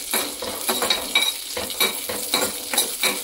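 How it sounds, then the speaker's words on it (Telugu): Cashews and raisins fry in a pan with a close sizzle, and a rhythmic stir of a spoon scraping through the nuts makes repeated bursts about every half second. No voices are heard. "జీడిపప్పులు దోరగా వేగిన తర్వాత ఎండు ద్రాక్ష వేసి ఒక నిమిషం వేయించుకోవాలి"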